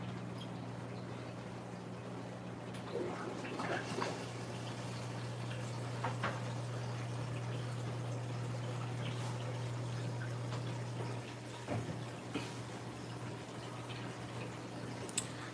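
Water trickles and drips steadily as return pumps run on a saltwater aquarium during a water change, a soft continuous flow under a low steady hum with a few louder splashes near the end.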